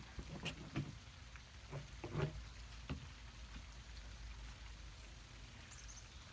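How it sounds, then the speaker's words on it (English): Two-stroke oil and fuel being poured into a leaf blower tank, a faint, steady liquid trickle with small splashy drips near the start, fairly quiet and continuous. "And we're going to pour her in."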